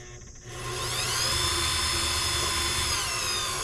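Steady high whine of a spinning wood lathe as a pen blank is sanded with 320-grit paper, starting quieter then rising to a loud, continuous hum with a faint rasp of abrasive, no voices.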